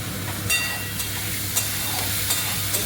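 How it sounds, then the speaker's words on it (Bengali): Water hits ground coriander, dried chili powder and Kashmiri chili powder frying in a pan, setting off a close, steady sizzle with a few brief scraping taps from stirring. "এটা একটুখানি জল দিয়ে দিলাম।"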